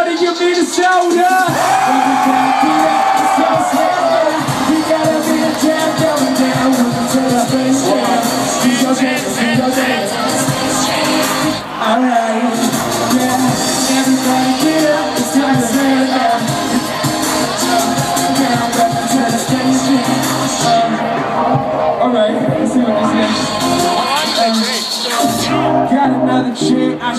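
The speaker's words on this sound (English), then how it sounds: "Looking at the crowd screaming now" A college crowd at a freestyle rap show on the University of Minnesota campus yells and cheers continuously beneath amplified rapping and music, a dense roar of voices throughout.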